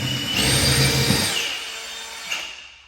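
A Milwaukee power tool accessory bites through a pine 2x4, a loud whirring cut that rises quickly, holds for about a second, then winds down, with a brief final knock near the end.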